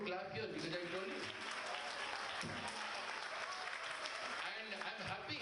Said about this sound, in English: Are you not excited to clap here?